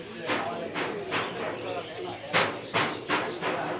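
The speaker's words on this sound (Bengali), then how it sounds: "দেখেন, কিং কবুতর আছে, সিরাজি আছে, অনেক ধরনের কবুতর আছে।" Pigeons coo in a loft holding king, Shirazi, fancy and posturing breeds, a low burbling chorus with a few louder pulses rising above a steady murmur, while someone talks over them.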